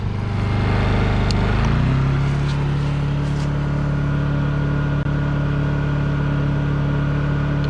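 A Honda EU2000i inverter generator revs up from its eco-throttle idle within the first two seconds, then holds a steady, loud, close engine drone at full throttle.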